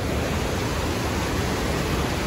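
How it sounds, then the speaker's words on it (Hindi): A waterfall's water rushes fast past a bridge at its center, a loud, steady broadband roar filling the whole clip with no break. "देख रहे पानी कितने स्पीड से आ रहा है"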